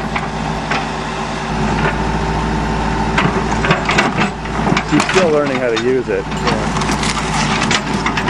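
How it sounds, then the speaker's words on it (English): A Saturn car's plastic body panels crunch and crack as the car is smashed apart, loud irregular crushing and snapping bursts over a steady engine rumble, with people talking throughout. "I love to hear the sound of plastic crunching in the evening as the sun sets over Calgary."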